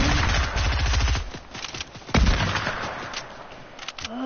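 Rapid bursts of rifle fire in a PS4 shooter, a dense rattling volley for over a second followed by scattered single cracks and one loud close shot, all without talking.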